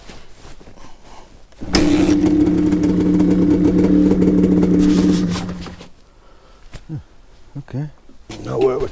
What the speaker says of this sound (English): Two-stroke motorbikes.